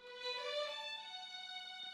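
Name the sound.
boosted ringing string sound in a mix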